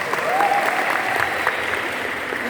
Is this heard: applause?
yes